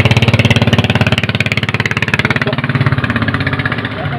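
A boat engine on Laguna de Bay labours through thick water lilies, chugging loudly and close in a fast steady pulse that slightly loosens and softens toward the end.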